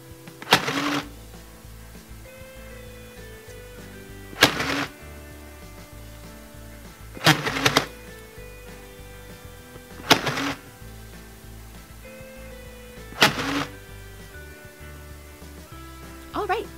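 A toy sewing machine doing spot stitching fires off short whirring bursts, about six quick start-and-stop runs spaced a few seconds apart, close up and loud against a quiet background.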